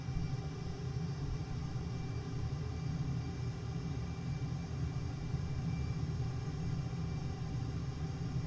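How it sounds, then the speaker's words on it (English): Jet engine roar from a simulated aircraft in Microsoft Flight Simulator holds steady through a long takeoff roll without afterburner, a constant low rumble and hiss with no talk. "And I forgot the afterburner again, so we had a really long takeoff roll."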